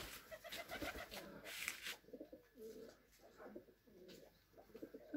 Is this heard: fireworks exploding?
no